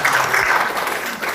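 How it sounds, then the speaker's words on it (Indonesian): A training-seminar audience bursts into applause, a dense, steady wash of many hands clapping close by that fills the whole brief moment without any talk. "Tepuk tangan dong."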